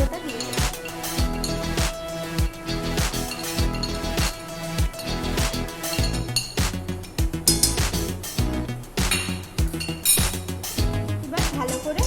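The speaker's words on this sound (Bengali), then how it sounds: "এবার ভালো করে মিশিয়ে ভালো করে নাড়িয়ে নেওয়া হয়ে গেছে।" Chicken biryani with garam masala is stirred in a metal pot at home, with repeated clinks and scrapes of a spoon against the pot at an irregular rhythm, close and clear.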